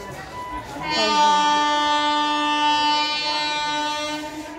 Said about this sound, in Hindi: after corona first local train